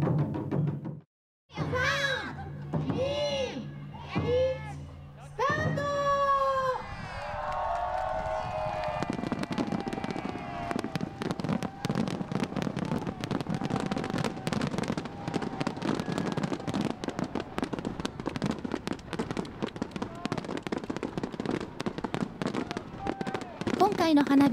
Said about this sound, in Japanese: 祈りを込め花火が打ち上げられました